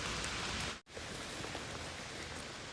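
Steady rain begins falling in a forest, a dense, even hiss of drops on leaves and ground that fills the clip after a brief gap near the start.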